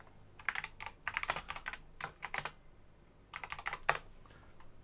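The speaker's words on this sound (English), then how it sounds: "having a mechanical keyboard just makes everything sound so aggressive when you type" Close, crisp clatter of typing on a mechanical computer keyboard, arriving in quick bursts of keystrokes separated by brief pauses, with no talking.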